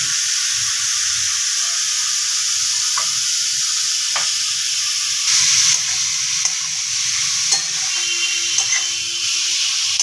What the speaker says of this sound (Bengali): আমি একটু এগুলোকে ভাজা ভাজা করে নেব মানে ভেজে নেব আর কি